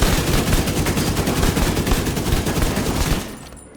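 Rapid sustained automatic fire from a black market AKM rifle in The Division 2, a dense loud stream of shots with no pauses that stops abruptly near the end.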